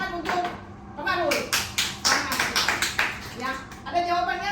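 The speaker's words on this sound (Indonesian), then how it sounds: "tepuk tangan untuk Kumadu" A classroom of students breaks into applause for a classmate, a burst of many hands clapping that swells, holds for a few seconds and then fades, with children's voices talking before and after.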